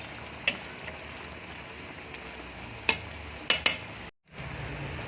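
Malunggay leaves stirred into simmering squash and string beans cooking in coconut milk: a steady low bubbling simmer with a few sharp utensil clicks and scrapes, close and moderately quiet, with a brief silent gap near the end.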